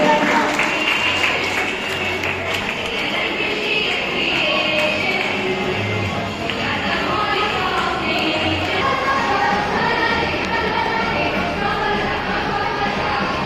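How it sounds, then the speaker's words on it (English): Audience applause at a school leader's investiture ceremony, steady clapping from a hall crowd lasting throughout, moderately loud with some shuffling. "Give a huge round of applause for them."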